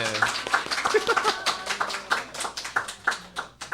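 A church congregation claps during a weekday worship service, with crisp, distinct hand claps in a quick uneven rhythm, close and fairly loud, and a voice heard briefly beneath them.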